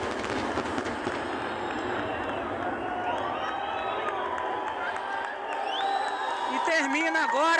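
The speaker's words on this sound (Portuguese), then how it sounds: "termina agora o queima de fogos com aplausos aqui da população" Crowd of spectators cheering and applauding as a fireworks show in Icaraí, Niterói ends, a steady wash of claps and shouts from many people with whoops and a voice rising above it near the end.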